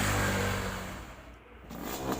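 A Yamaha RX King motorcycle with a stock engine and a Kupang-style Equator exhaust runs at close range, its steady engine roar dipping briefly before rising again.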